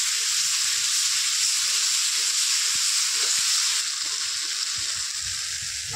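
Spice paste frying with salt and turmeric in a Bengali village kitchen, cooked down before fish are added, giving a loud, steady hiss and sizzle with faint stirring beneath.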